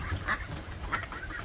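A group of farm ducks quack and honk close by in quick, overlapping calls that keep up throughout the short stretch, with no talking.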